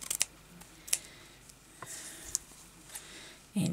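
Scissors snipping lace fabric for a sewing journal, a few short crisp clicks and snips scattered irregularly, close and fairly quiet, with a soft rustle near the end.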